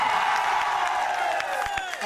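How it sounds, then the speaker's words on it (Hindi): An audience claps and cheers at a Bundelkhandi comedy show at the Banganga fair festival in Shahdol, a steady crowd roar of applause filling the whole stretch while a drawn-out voice carries over it. "ताली बजा दो"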